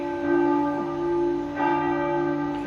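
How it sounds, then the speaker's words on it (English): Church bells ringing at 7 o'clock in the morning, a steady sustained clang with rich lingering overtones, strikes swelling every second or so, fairly close and loud with no voices. "I can never concentrate when the bells go on"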